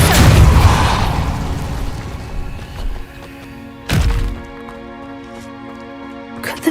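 A fire spell is cast with a loud whooshing burst at the start, followed by a low, resonant, music-like drone and a second sharp thudding boom near the four-second mark, then a fading tonal tail.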